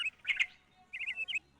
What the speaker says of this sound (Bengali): ওদিকে আবার কি একটা পাখি ডাকছে